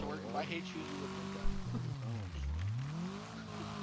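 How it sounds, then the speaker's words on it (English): A car in the Wreckfest racing game takes a handbrake turn. The engine note dips and then climbs again, with a faint scrub of tires, and someone talks over it. "All right, let's try the handbrake this time."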